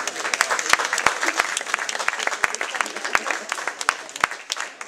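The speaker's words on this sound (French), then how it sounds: "Applaudissements." Applause from a crowd at a junior podium challenge event, a dense patter of many hands clapping loudly and close with sharp individual claps standing out, steady for several seconds.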